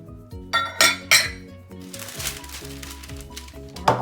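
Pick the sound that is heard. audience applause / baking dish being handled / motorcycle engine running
baking dish being handled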